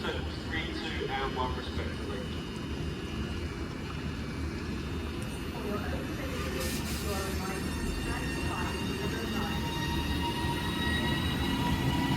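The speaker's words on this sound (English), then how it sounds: "Train now departing is a 331 going to Blackpool North." A Class 331 electric train pulls out of Wigan North Western bound for Blackpool North, a continuous low rumble and hum with faint squeals and clanks at a moderate distance under station ambience.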